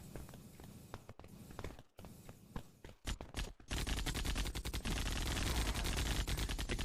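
Paintball-like guns in the shooter Valorant fire in sporadic single shots and short bursts, then break into a loud, sustained stream of rapid automatic fire that runs to the end.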